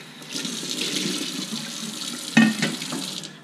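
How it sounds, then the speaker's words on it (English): Tap water runs steadily into a Chemex glass coffee maker as it is rinsed at a sink, splashing close by. A brief louder gush and sloshing comes near the end, with no talking. "Gets rinsed out thoroughly."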